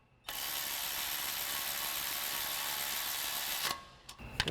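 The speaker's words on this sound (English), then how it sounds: "We'll tighten this one down with our 10mm socket on our ratchet." A ratchet with a 10mm socket drives down a bracket mounting bolt on a 2015-2020 Ford F-150 during a lowering kit install, a loud, steady buzzing run lasting about three seconds that cuts off abruptly, followed by a few sharp clicks.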